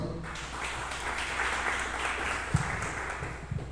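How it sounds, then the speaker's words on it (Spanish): A church congregation applauding during a Sunday service, with sustained, dense clapping that carries through the whole stretch, a few sharper claps standing out near the end. "dale un aplauso al Señor"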